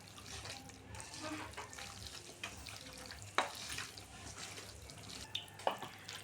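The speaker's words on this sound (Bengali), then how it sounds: "সামান্য একটু জল দিয়ে দিয়েছে মা, খুব সুন্দর করে মাখা হবে" A little water is poured over poa fish as it is mixed with spices for a banana-leaf paturi. Soft, wet splashing and mixing stay faint and close, with a few brief sharp clicks and no talking.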